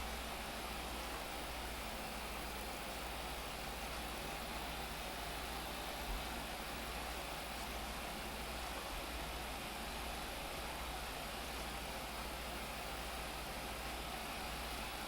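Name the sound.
small 20-horsepower tractor engine idling, from video game Farming Simulator 25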